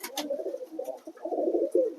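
Pigeons coo softly inside a pigeon loft where blue and pink satin birds are kept with young, a low rolling murmur running continuously at close range with a few brief rustles.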